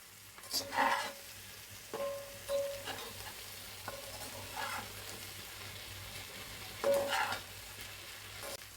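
Fresh koi fish, already fried with turmeric, chili powder and salt, stirred in a pan, with a steady soft sizzle and several separate scraping clinks of a spatula spaced across the stretch.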